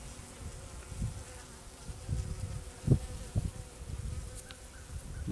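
A steady low buzzing of many honey bees hums throughout, close by, with occasional soft handling knocks and no talking.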